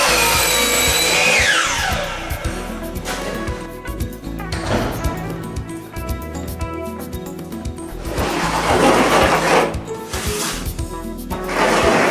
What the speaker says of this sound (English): We'll cut this down like we did this beam, and we'll set this cross beam across the top.